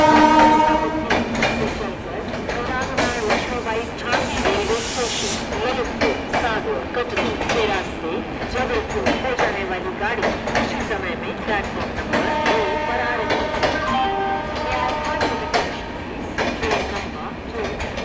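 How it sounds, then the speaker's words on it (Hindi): The Jabalpur Express pulls into platform 1 at an Indian railway station, a loud rumbling approach with rattling wagons and a horn blast, while someone speaks over the noise. "सामने से आ रही है जबलपुर एक्सप्रेस, प्लेटफॉर्म नंबर 1 पर इसका अराइवल हो रहा है।"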